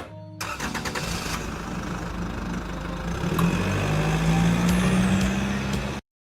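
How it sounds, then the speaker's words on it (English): A school bus engine in a Gacha animated series cranks and catches, then idles with a rising drone, a hiss and a high whine before the sound cuts off abruptly. "Okay, so it is a school bus."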